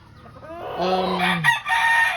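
A gamecock stag, a nearly three-year-old tornado hatch, crows once up close, the call rising into a strained, ragged cock-a-doodle-doo that breaks off briefly before a final clipped note.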